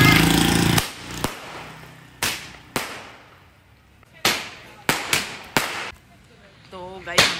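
Fireworks at a wedding procession, a series of sharp, loud firecracker bangs spaced irregularly across several seconds with short echoing tails, after an opening wash of crowd noise and a voice briefly heard at the end.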